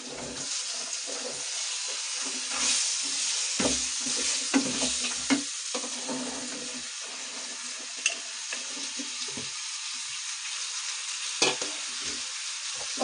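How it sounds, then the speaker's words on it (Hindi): Mixed vegetables go into hot oil already mixed with spices, giving a steady, close frying sizzle with occasional scraping stirs and small clicks of a spoon against the pan, no talking. "अब मैं ये सारी सब्जियां डाल दूंगी इसके अंदर"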